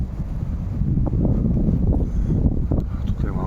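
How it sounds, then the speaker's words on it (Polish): Wind blows around an abandoned mausoleum in a cemetery, a continuous low rumbling gust buffeting close to the microphone, with faint movement and a brief voice near the end. "Jeszcze teraz wieje do tego wiatr"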